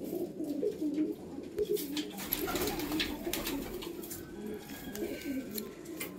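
Low, throaty cooing from a pair of breeding pigeons, male and female, kept at a house, carries on in overlapping rolls. It stays close and fairly loud, with a few soft rustles and no voices.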